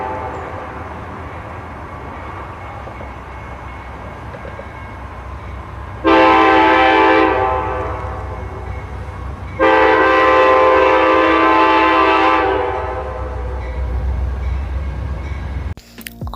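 An Amtrak P42 locomotive sounds its horn in two long, loud chord blasts, each about three seconds, over steady rumbling engine and rail noise.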